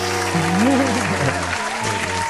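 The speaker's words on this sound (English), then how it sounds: "Insert claps." Applause dropped in to welcome a special guest, the host's wife, onto a talk show; a continuous wash of clapping runs steadily throughout, with music or a tonal hum sitting underneath.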